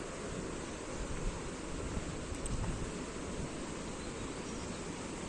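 A river near Old Manali rushes steadily at moderate distance, a continuous broadband roar with no voices.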